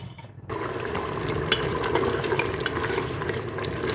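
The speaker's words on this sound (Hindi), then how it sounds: "अब इसको हम तेज़ आंच पे भूनते जाएंगे।" Bhuna gosht, meat with lemon juice and yogurt, fries on a high flame, a dense continuous sizzle that bursts in abruptly after a brief quiet moment and stays loud and close throughout.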